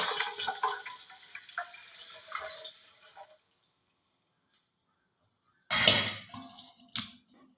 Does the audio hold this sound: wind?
no